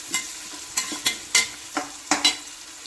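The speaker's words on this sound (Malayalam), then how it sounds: "എന്നിട്ട് പിന്നെ നല്ലോണം ഇളക്കി കൊടുത്തു" Onions frying in a pan are stirred several times, each stroke a short scrape at an uneven pace over a soft sizzle. The sound is close by and no one talks.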